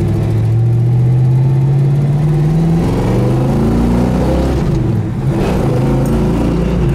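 A car with an aftermarket exhaust revs up close and loud, its engine note climbing in pitch and then settling into a steady throaty drone across the whole stretch, with no talking.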